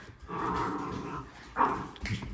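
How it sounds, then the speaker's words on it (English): Restless dogs growl and grumble low in the background, a sustained rumbling growl followed by a brief sharper yip, fairly faint and close-ish indoors. "The dogs are getting restless."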